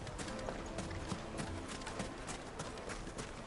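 A horse's hooves clip-clop at a steady trot, fairly faint and close, with light background noise around the rapid, even hoofbeats.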